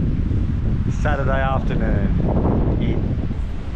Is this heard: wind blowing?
yes